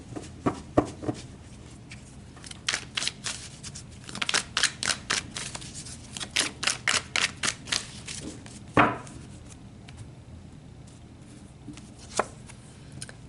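Tarot cards are shuffled and pulled close up in quiet surroundings, giving rapid bursts of crisp riffling clicks and snaps in irregular clusters. No one speaks.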